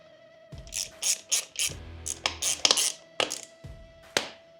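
Ratchet tightening the derby cover bolts on a Harley Dyna, with short bursts of rapid metallic clicking separated by brief pauses and occasional clinks of tools, close and distinct.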